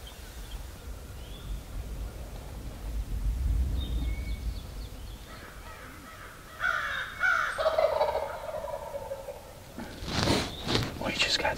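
Wild turkey gobbling from a tree roughly 70 yards out during a late-season hunt, a distant call rising over quiet woods with a sharper burst near the end, while people talk softly nearby.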